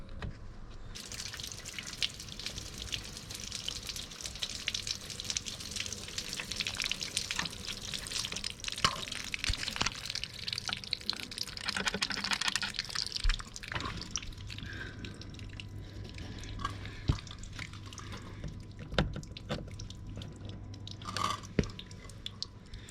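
Irregular water drips and trickling splashes into a Range Rover L405 door drain, close by, with faint rustling handling noise and a low steady background hum throughout.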